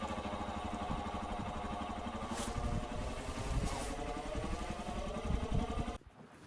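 A motorcycle engine idles steadily at close range on a mountain pilgrimage route near Adi Kailash, a continuous chugging rumble that cuts off abruptly near the end.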